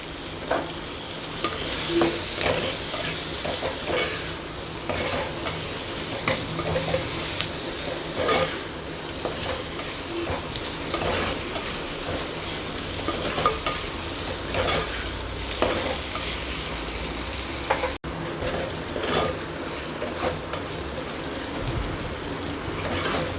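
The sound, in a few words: onions and tomatoes sautéing in a pan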